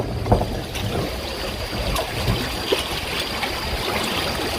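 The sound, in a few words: sea water lapping near Pulau Ubin, Singapore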